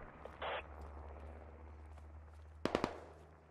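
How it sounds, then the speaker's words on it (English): Gunshots in the Squad video game, a few distant cracks early on, then a quick tight cluster of three or four sharp reports near the end over a low background hum. "I hear the shots."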